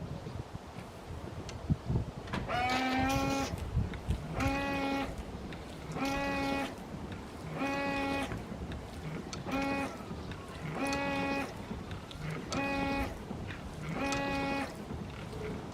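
Newly fitted windshield wiper blades on a BMW 7 Series sweeping back and forth, each pass a short, regular whining squeak, repeating about nine times at a steady rhythm under faint background noise.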